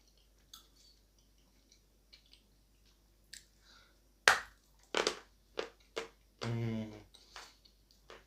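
Biting and chewing a porous, very dry piece of Astana edible chalk clay, with a loud crunchy bite followed by several crisp crumbly chews and small clicks, close to the mouth, with a brief nasal vocal sound.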